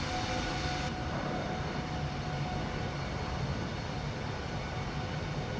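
Airbus A320neo descending with its flaps extending, heard as a steady, loud broadband roar of airflow and engine noise that carries on unbroken throughout.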